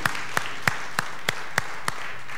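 Slow, evenly spaced single claps at a church service, about seven sharp rhythmic beats roughly a third of a second apart, fairly faint against a quiet room.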